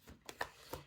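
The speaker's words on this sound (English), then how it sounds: "let's shuffle the cards for my blue collective" Tarot cards being shuffled by hand, giving a few soft, quick papery flicks and taps, faint and close, with no talking.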